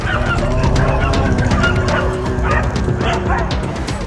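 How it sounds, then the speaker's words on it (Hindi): Large pack of stray dogs, around three hundred, barking and yelping continuously in an overlapping din while attacking a cow, close and loud. "कुत्ते भी 1-2 नहीं बल्कि करीब 300 थे, जो उस गाय पर चारों तरफ से हमला कर रहे थे।"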